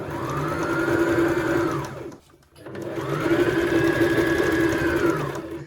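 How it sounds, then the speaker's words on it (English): A sewing machine runs a straight seam across skirt fabric in two steady whirring bursts separated by a short pause, close and loud with no talking. "you're going to sew the whole way across"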